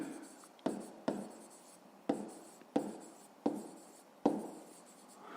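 Handwriting on paper during a fifth-grade math exercise: six distinct scratchy pen strokes, each a quick burst fading out, spaced about a second apart and heard up close.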